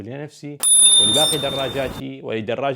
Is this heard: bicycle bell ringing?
yes